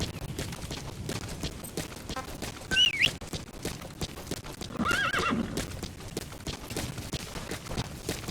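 Horse hooves clip-clop in a steady trot through Metal Gear Solid V: The Phantom Pain, with two sharp neighs breaking through midway, close and clear over a busy game soundscape.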